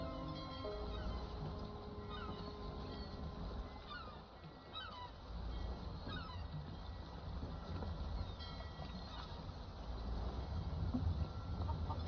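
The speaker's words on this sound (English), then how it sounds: "There's a chicken sitting out here." Chickens cluck and honk repeatedly in modded Skyrim, a busy stretch of fowl calls layered over steady ambient game noise at moderate level.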